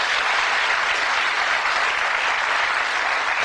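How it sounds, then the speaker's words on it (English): Steady, dense audience applause for a darts player throwing for charity on a televised darts game show, loud and even throughout without a break. "Give him an encouraging round of applause as he throws for charity."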